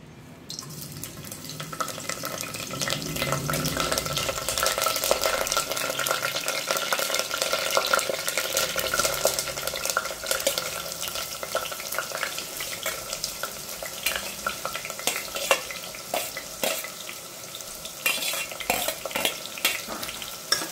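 Steady sizzling of curry leaves, green chillies and onions frying in hot oil, with occasional stirring scrapes and clinks, close up, continuous throughout with no talking.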